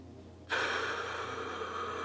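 A deep exhale in a rhythmic breathing exercise: after half a second of near silence, a loud, breathy rush of air starts abruptly and holds steady to the end.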